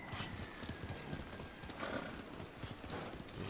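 Hooves of a horse in Ghost of Tsushima clop in a steady galloping rhythm, with a brief whinny, moderately close amid rustling ambience.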